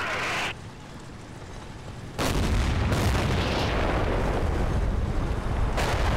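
Heavy gunfire and explosions in the World War II strategy game Combat Mission: Battle for Normandy boom and crackle loudly, with a sudden burst that turns into a sustained roaring barrage, speech heard faintly beneath it.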